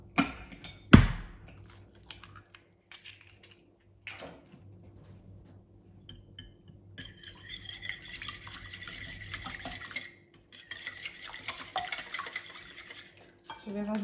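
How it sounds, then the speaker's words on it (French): Melted butter is whisked into eggs in a bowl for oat biscuits, starting with a sharp knock, then intermittent scraping and brisk rhythmic stirring bursts against the bowl, close and fairly quiet with pauses between. "Je vais venir le mélanger avec les œufs."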